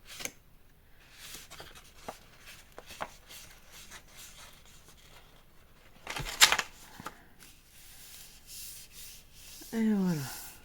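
Paper for a mini album gets its fold lines scored, with soft, scattered scratching and rubbing strokes, one louder scrape partway through and a brief squeak near the end.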